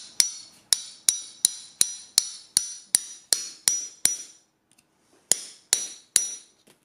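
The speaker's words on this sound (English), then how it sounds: "You want it to be a more solid sound when you're pounding in into concrete." Hammer blows driving nails through carpet tack strip into a concrete floor, about a dozen sharp, hard strikes at a steady quick pace, a short pause, then three more, close and alone.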